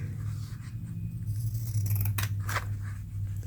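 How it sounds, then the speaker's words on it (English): Scissors cut freehand paper shapes for a bee-themed journal layout, giving a few crisp close snips over a steady low background hum. "I'm not even going to measure. I'm just going to cut"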